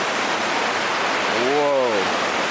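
Benta River Falls in Westmoreland, a river waterfall, roars as a dense, constant rush of water close by, with a brief voice calling out over it.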